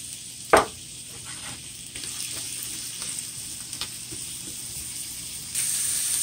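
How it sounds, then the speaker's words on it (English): Onions with garlic and pepper fry in a pan with a steady, bright sizzle, broken early by one sharp clank of a utensil and growing louder near the end. "You want to cook the onions with the garlic until"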